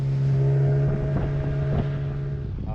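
A boat's outboard motor runs with a steady, droning hum close by in a mangrove channel near Norman's Cay, with wind buffeting over it and a faint knock or two.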